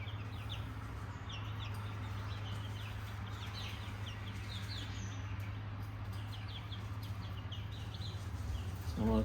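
Baby chick, a black Australorp crossed with a Wyandotte, chirps in quick high peeping bursts that repeat throughout, close and steady over a low constant hum.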